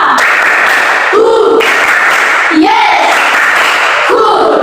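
A group of children in a classroom claps in unison, a steady rhythmic pattern of bursts with excited voices and chanting mixed in, close and loud.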